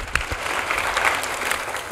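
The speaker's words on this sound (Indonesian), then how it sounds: "Boleh dong tepuk tangan buat gereja ya" Church congregation clapping during a Sunday service, a dense, steady wash of many hands that holds at an even level for the whole two seconds.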